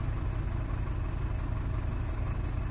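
An Isuzu car engine runs steadily, a low, even hum that stays constant throughout, heard up close while the air conditioning is being checked.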